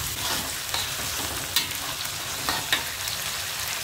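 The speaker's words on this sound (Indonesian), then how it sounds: "Kita aduk lagi, sampai wangi matangnya keluar." Anchovy chili sambal sizzling and frying in a pan while being stirred, a steady crackle with a few soft scraping clinks of the spatula.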